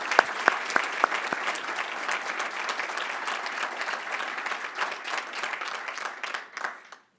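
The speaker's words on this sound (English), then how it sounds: "big round of applause." Loud applause from a civic business audience honoring Bill Rudin at an Association for a Better New York event in New York City, a few sharp claps opening into a steady wash of clapping that fades out at the end.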